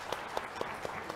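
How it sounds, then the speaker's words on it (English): An audience at an economics panel discussion on the Indian economy applauds the panelists, with steady overlapping clapping and a few sharper claps standing out. "let's give all our panelists, Mr. Bimlendra, Omkar, Goswami, and R. Mukundan, a big round of applause"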